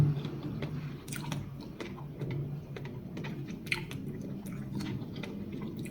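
Someone eats food close to the microphone, with soft crunchy bites and chewing scattered over a low, steady background hum and no talking.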